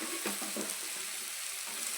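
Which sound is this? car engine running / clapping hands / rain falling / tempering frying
tempering frying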